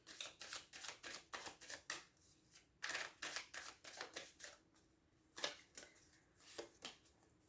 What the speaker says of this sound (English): I'm going to take 3 cards for you guys.